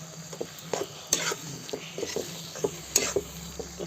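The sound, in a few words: stirring fried paneer into gravy in a pan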